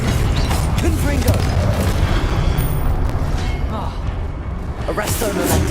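A Confringo blast spell explodes in the video game Hogwarts Legacy, a loud, booming burst within a dense, continuous wash of game effects and rumble.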